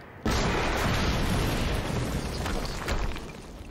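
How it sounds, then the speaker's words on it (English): An explosion in Quantum Break, a sudden loud blast followed by a sustained roaring rumble that slowly fades over several seconds. "HQ, we just heard an explosion near the harvesting perimeter."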